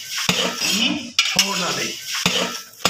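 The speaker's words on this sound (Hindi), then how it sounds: "लेकिन इसको हमने मुसलसल हलाते रहना है जब तक ये अपना घी छोड़ ना दे।" A metal spoon scrapes and clinks against a pan as cheerh halwa with sugar and khoya is stirred, producing sharp knocks at intervals over a soft frying sizzle, close and fairly loud.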